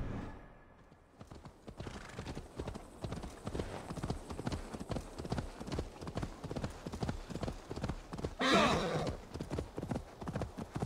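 A horse gallops in Assassin's Creed Valhalla, its hoofbeats pounding in a fast, steady rhythm throughout, with a loud neigh rising partway through. A voice briefly joins the hoofbeats.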